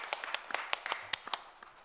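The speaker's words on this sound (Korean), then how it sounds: "하나님 경고의 박수 올려드리겠습니다" Several people in a Korean church congregation clap together after a prayer, with sparse, uneven individual claps close by that slowly thin out within two seconds.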